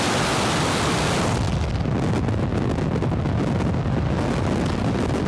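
A SpaceX Falcon 9 rocket launch produces a broad, continuous rumbling roar that stays loud and steady throughout, with no voices over it.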